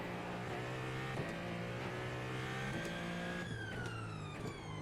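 Ferrari 499P hypercar in the iRacing simulator, its engine note dropping and shifting as it brakes, with downshift blips and a steady loud mechanical whine running throughout.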